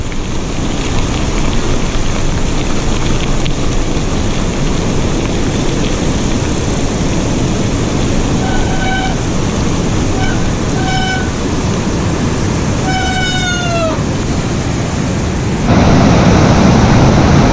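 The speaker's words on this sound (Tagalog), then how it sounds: "Lakas ng tubig ngayon dito sa dam, oh." Loud, unbroken rushing of heavy water released from Bustos Dam roars throughout, broadband and close, with faint tonal whistles rising above it briefly.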